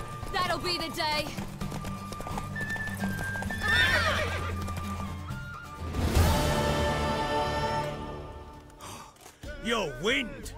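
A horse in The Witcher 3 whinnies and snorts amid clip-clopping hooves, with voices talking over parts of it and a second loud neigh near the end.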